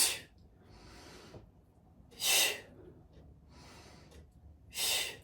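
A person exhales during a dumbbell chest exercise, making forceful breaths in a repeating rhythm, two loud sharp exhales alternating with softer ones, close to the mic with no talking.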